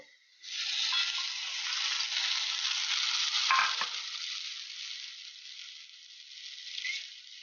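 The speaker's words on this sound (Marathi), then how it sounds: "तो चांगल्या प्रकारे परतून घ्यावा" Chopped tomato with spice masala and salt sizzles steadily in a hot pan, a continuous close frying hiss with a brief clatter of stirring midway and light scraping near the end.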